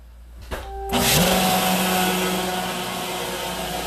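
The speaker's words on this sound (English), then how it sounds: "you're going to hear my blender for a minute, so hold on" A kitchen blender starts up after a quiet moment and runs loud and steady, whirring close by for the rest of the stretch.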